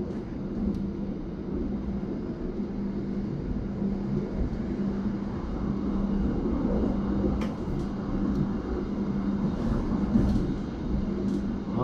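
A Pangandaran passenger train runs fast past a KRL commuter train, giving a steady loud rumble and rolling wheel noise with occasional faint clicks of rail joints, no voices.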